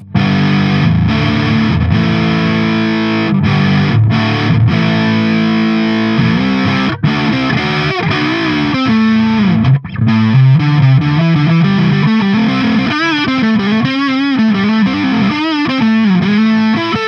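A Harley Benton kit electric guitar plays through its neck pickup with heavy distortion, sustained chords and riffs ringing loud and continuous, ending in bending lead notes.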